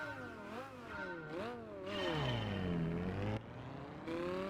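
Lamborghini Murcielago with 640 horsepower revving in the video game Gran Turismo 5, its engine note climbing, dropping and sweeping through several rising and falling pitches, loud and alone.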